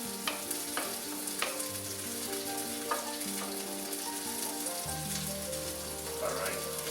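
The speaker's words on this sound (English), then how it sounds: "even though I turned the heat off on the fish, it's still over there sizzling away" Grouper sizzles and crackles steadily in a hot pan with the heat turned off, with a few sharp clinks and a low hum underneath, no talking.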